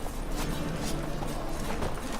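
Horse hooves galloping in the video game Witcher 3, a steady quick clip-clop rhythm running continuously under a broad wash of wind or movement noise, with no speech.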